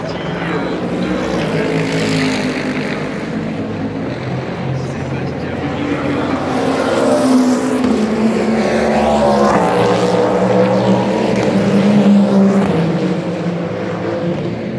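Race cars including the Ferrari number 51 at the 24 Hours of Le Mans, a continuous engine roar swelling and fading as cars pass, under French commentary.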